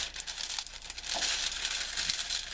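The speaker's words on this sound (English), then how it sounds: "So I always peel my plastic back to get those." Plastic film peeled back from a canvas gives a steady close crinkling and crackling rustle that runs continuously for a couple of seconds with no voices.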